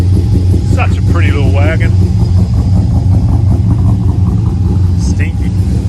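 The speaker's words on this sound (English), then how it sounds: "Do a cold start." Volvo XC wagon engine on a cold start, a loud steady low rumble close by, with a person talking briefly over it.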